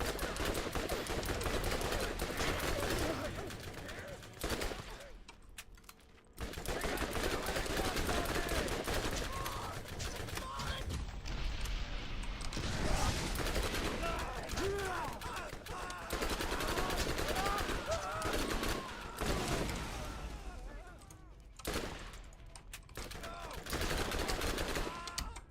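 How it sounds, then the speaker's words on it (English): Automatic SMG fire in the video game Borderlands sounds as dense, continuous bursts through most of the stretch, with brief pauses, under a speaking voice and other game noise. "I forgot that this SMG does not do a lot of damage."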